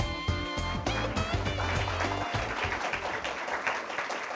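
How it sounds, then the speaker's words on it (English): Scattered audience applause rises and swells behind a bright musical sting with tonal notes, the clapping growing denser toward the end. "Thanks for the applause."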